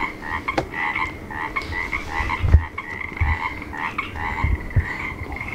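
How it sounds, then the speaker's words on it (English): Frogs croak loudly and steadily at night from a driveway overlooking city lights near San Jose, a dense, continuous chorus of repeated calls with a few low thumps underneath. "Frogs are going crazy over here."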